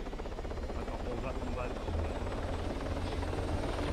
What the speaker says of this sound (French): Ah, j'entends plus rien avec l'hélico